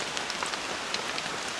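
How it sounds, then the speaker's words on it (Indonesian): Heavy rain pours steadily at night at a mountain campsite, a dense, even hiss of drops on surfaces with scattered brighter taps, continuous and close with no voices. "Oke, jadi malam ini hujannya terus mengguyur ya, suasana semakin dingin teman-teman."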